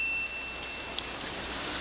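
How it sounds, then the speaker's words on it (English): Rain in the visual novel game Katawa Shoujo, a faint, even hiss of falling drops with a few soft patters, steady throughout with no voices. "Ren seems to forget that it's raining"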